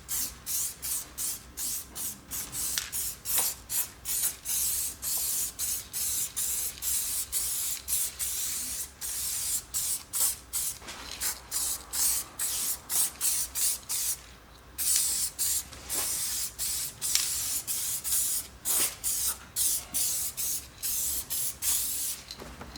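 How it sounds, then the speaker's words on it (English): High-quality wax is sprayed onto a car chassis before heat shields are fitted, in many close, loud hissing bursts of a second or less, separated by short pauses, with no talking. "I wanna spray some high quality wax on a chassis"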